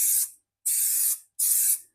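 Adhesive spray glue hisses from an aerosol can onto a Volkswagen package tray during a headliner installation, in three steady bursts of about half a second each, separated by short pauses, loud and close with no talking.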